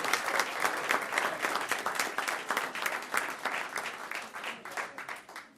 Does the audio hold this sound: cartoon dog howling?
no